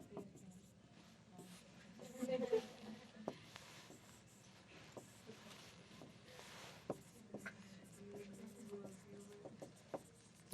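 Notes being written by hand during an accounting lesson, with faint scratching pen strokes and light taps under quiet talk.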